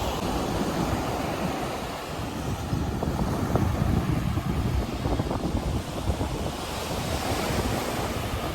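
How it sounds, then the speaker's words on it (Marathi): Ocean waves washing onto a beach in South Goa make a steady, loud roar of surf with wind buffeting the microphone throughout, and no voices. "हे साऊथचं समुद्र खूपच सुंदर आहे"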